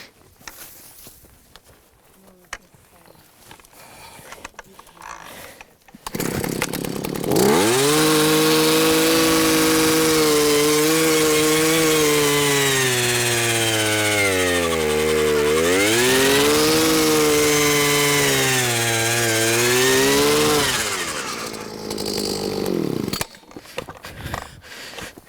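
A big SIPRE ice core auger drills into unfrozen shallow ground, its motor droning loud and steady for about fifteen seconds with shifting pitch, then cutting off.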